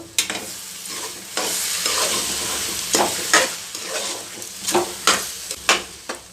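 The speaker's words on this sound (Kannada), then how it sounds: "ಮೊಟ್ಟೆ ಹಾಕಿದ್ಮೇಲೆ ಅದ್ರ ಜೊತೆಯಲ್ಲಿನೇ ಪೆಪ್ಪರ್ ಪೌಡರ್ ಹಾಕಬೇಕು ಹಾಕಿ ಇವಾಗ ಚೆನ್ನಾಗಿ ಮಿಕ್ಸ್ ಮಾಡಬೇಕು" Egg with broccoli and tomato stirred in a frying pan over low heat for a bhurji, with a steady sizzle broken by repeated scraping strokes of the spatula, close and fairly loud, no voices.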